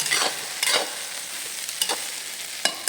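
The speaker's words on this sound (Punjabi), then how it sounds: "ਹੁਣ ਇਹਨੂੰ ਢੱਕਣਾ ਨਹੀਂ ਬਿਲਕੁਲ 2 ਮਿੰਟ ਇਹਨੂੰ ਅਸੀਂ ਭੁੰਨਾਂਗੇ" Okra and onions fry in a pan, giving a steady close sizzle broken by four distinct scraping stirs spaced through the short stretch, with no voices.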